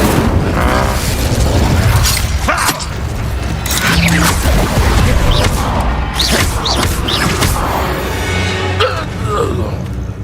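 An Incendio fire spell bursts during a duel in the wizarding game Hogwarts Legacy, with loud booms and crashing blasts in dense, constant combat noise, and a voice speaking over it.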